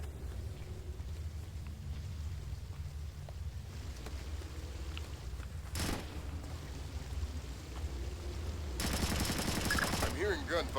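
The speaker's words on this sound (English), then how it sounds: "I'm hearing gunfire down there, Fisher." Distant bursts of Splinter Cell: Chaos Theory gunfire crackle over a low rumbling background, with one sharp loud shot and a dense rattling stretch near the end.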